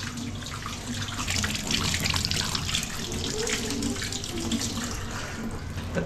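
Water pouring steadily from a tap while someone washes, a continuous hissing splash at moderate level with faint background murmur and no clear speech.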